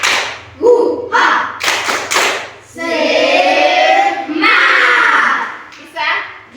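Classroom of children doing a rhythmic spirit clap, tepuk semangat: a quick run of sharp claps and thumps followed by long chanted shouts from the group, loud and close.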